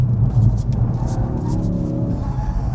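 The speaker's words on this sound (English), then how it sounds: "So yeah, there's your lift off oversteer" A car drifting with lift-off oversteer, its engine rumbling close, with a rough tire scrub and faint squeal across a short stretch.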